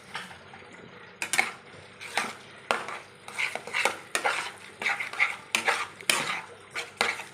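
A spoon stirs semolina in a small bowl, making close, repeated scraping and clinking strokes in an irregular rhythm, with no talking.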